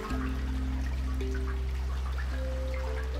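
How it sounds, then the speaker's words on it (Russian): Water flows steadily in the video game Flotsam, a soft trickling stream over a low, sustained hum with a few faint tonal notes. "Звук текучей воды."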